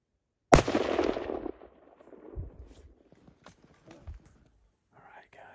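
A single loud rifle shot fired at a wounded mule deer buck on a Colorado hunt, a sharp close crack with a trailing echo, followed by faint rustling and soft low voices.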